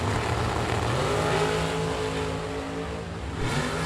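Drag race cars launch down the strip at a bracket nationals event, engines roaring loud and steady with rising harmonic tones as they pull away, close and continuous without talk.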